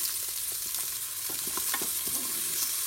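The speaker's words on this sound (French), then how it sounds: "Vous allez y faire revenir vos oignons" Onions fry in a drizzle of oil inside a Cookeo multicooker, giving a steady close sizzle with scattered crackles and light stirring clicks throughout, no voices.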